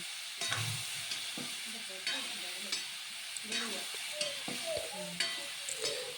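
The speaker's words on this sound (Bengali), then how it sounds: "এবার আমি কেটে রাখা পেঁপে পুঁই সব দিয়ে দেবো। সবগুলো একসঙ্গে দিয়ে ভালোভাবে নেড়ে চেড়ে কষিয়ে নেব।" Cut papaya and malabar spinach sautéed and stirred in a pan, soft sizzling beneath repeated scraping and clattering spatula strokes at irregular intervals, close and moderately quiet, no speech.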